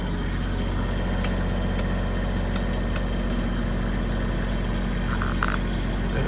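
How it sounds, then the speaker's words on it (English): A boat's generator runs in the engine room on an offshore passage, droning as a loud, continuous low hum with a few faint ticks and clanks over it. No one speaks. "One generator, second generator, few tanks there,"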